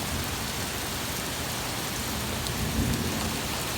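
A thunderstorm with a heavy downpour, steady dense rain hiss throughout and a low rumble of thunder swelling briefly near the end, no voices.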